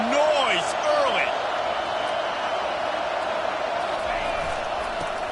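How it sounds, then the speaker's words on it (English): Stadium crowd at a Texas football game, a loud, steady roar that fills the whole stretch with no gaps, with whistles and shouts rising out of it. "This crowd bringing the energy and noise early."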